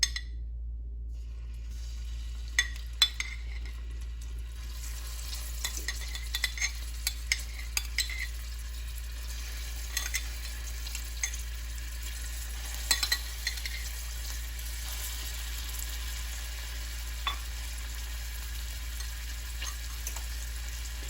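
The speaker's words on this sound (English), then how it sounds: "So now that the coconut oil is all melted, nice and everywhere, I'm going to put in the shrimp first." Raw shrimp frying in melted coconut oil in a single pot, a steady soft sizzle running throughout with scattered small clicks and pops of utensils, no voices.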